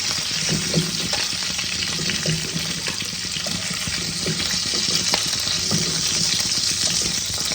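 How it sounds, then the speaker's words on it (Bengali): Fish heads for a Bengali muri ghonto sizzle and crackle steadily in hot oil, a dense, close frying hiss with occasional stirring clinks and no voices. "দেখো মাছের মাথাগুলো আমার লাল লাল করে ভাজা হয়ে গেছে।"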